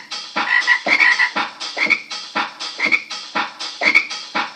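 Frogs croak indoors after coming in from a cold, icy storm night, giving loud, close, rhythmic croaks at roughly one-second intervals with no talking.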